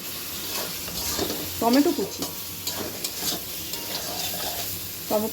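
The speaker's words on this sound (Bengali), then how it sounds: "এই দিয়ে একটু নাড়াচাড়া করে দিয়ে, নাড়াচাড়া হচ্ছে।" Chicken with tomato sizzles in a frying pan as a spatula stirs it, giving several distinct scraping strokes over a constant hiss, close up, with a voice briefly speaking partway through.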